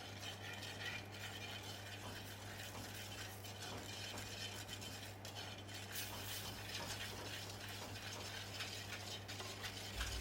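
A frying spice mix of chili powder and coconut oil is stirred in a pan for a mushroom curry, giving a faint, steady sizzle with soft scraping under a low hum.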